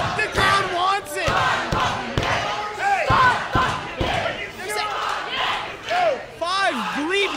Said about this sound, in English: Five bleeping minutes, they're saying.